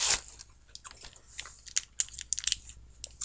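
Close, quiet bites and chewing of McDonald's fries, with soft irregular crunches and wet mouth clicks that cluster into brief bursts, with no talking.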